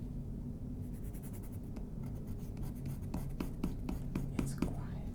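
A sharp pencil scratches across paper while drawing, producing soft, irregular strokes with a cluster of quicker, crisper marks toward the end, all close and fairly quiet against a low background murmur.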